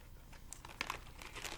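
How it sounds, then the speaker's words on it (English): A plastic bag crinkles and rustles up close as leftover clay is pushed inside, in short irregular bursts of crackling. "Take a plastic bag. Put all your extra clay"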